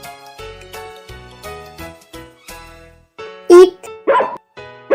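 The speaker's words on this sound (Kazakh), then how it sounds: "Ит." A dog barks three times in quick succession, loud and close, toward the end, following a light tonal instrumental tune.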